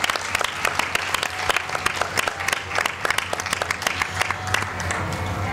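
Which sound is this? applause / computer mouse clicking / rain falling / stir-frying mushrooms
applause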